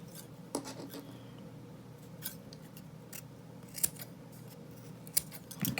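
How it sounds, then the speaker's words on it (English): Scissors snip Ankara African print fabric while making boho earrings, several sharp separate cuts spaced across a quiet, close background. "now I'm going to cut this off to get that out of the way"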